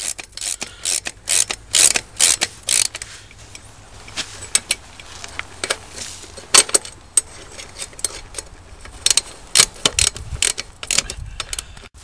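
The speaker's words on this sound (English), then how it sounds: "Now tighten up the bolts in a star pattern to make sure that the sprocket goes on evenly." Sprocket bolts on a dirt bike are tightened in a star pattern, producing repeated bursts of sharp ratchet clicks with brief pauses between, close and fairly loud, with no talking.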